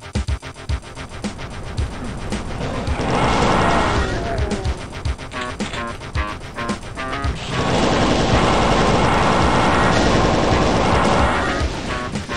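Rapid bursts of weapon fire with booming impacts and explosions from the Doom shooter, loud and dense, pulsing in waves across the clip.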